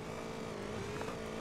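A motorcycle engine in GTA San Andreas drones steadily at a constant pitch, sounding stuck near top speed and unable to accelerate further, loud and continuous with no gaps.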